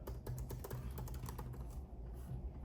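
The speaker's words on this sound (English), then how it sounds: "I can't type." Rapid typing on a computer keyboard while a contract form is filled in, a dense run of close, crisp keystroke clicks with a low hum underneath and no speech.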